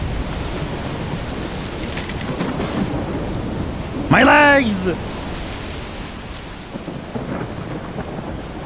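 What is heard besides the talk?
thunder and lightning storm in video game S.T.A.L.K.E.R. 2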